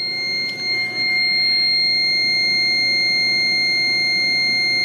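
A CCTV DVR alarm set off by a Redwall PIR sensor and relay on a Panasonic system sounds as a steady, piercing electronic tone that holds for the whole stretch.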